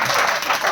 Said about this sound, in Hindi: महिलाएं ताली को अच्छा बजाती हैं।